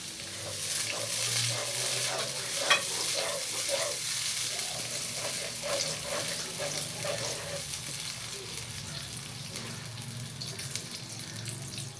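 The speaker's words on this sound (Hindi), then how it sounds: "इसे अच्छे से भून लेंगे और साथ ही इसमें हम थोड़ा सा पानी भी ऐड करेंगे ताकि लहसुन हमारा जल ना जाए।" Garlic fries in a pan with a little added water, giving a steady sizzle and hiss through the whole stretch, with faint scraping of stirring and no voices.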